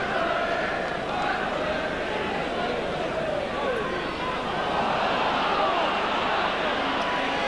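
Steady crowd hubbub and chatter at a Halifax v Hull KR rugby league cup match fills the clip, a broad continuous murmur of many voices held at an even level with no single standout cheer.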